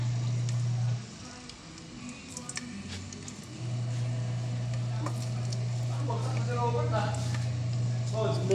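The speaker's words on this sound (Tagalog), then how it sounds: "Pag mainit na, ilalagay natin yung bawang." Garlic sautéing in hot oil in a home kitchen: a soft, steady sizzle with a few stirring scrapes, faint and close, under occasional talking.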